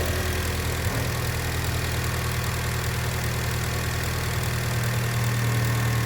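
A Mitsubishi Lancer 1.6 running on petrol and LPG idles with an ignition misfire and a damaged rear exhaust muffler, giving a steady, rough, uneven engine drone with no talk.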